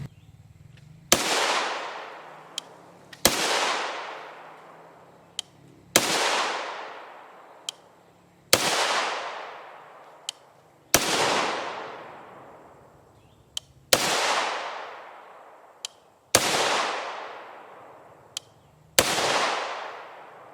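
A 16-inch PA10 rifle with a muzzle brake fires 7.62 NATO M80A1 rounds outdoors, giving eight loud, sharp shots spaced roughly every two to three seconds, each with a long ringing decay and faint clinks between them.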